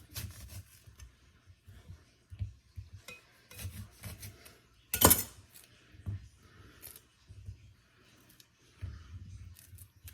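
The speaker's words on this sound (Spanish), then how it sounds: "Empezaremos cortando nuestros limones para poner a cocer el camarón." A knife cuts limes on a kitchen board for a shrimp tostada recipe, giving soft scattered chopping and scraping taps close by, with one sharper clatter midway and quiet gaps between.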